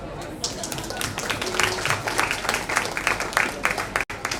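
An audience at a book launch gives a brief round of applause, a moderately quiet patter of clapping that holds steady for a few seconds.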